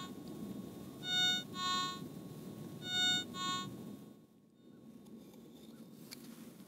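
Faint electronic beeps from a Garrett ATX metal detector signalling a weak target, two quick pairs of short tones, sit above a steady low rumble and fade out, leaving soft background noise with a few tiny ticks.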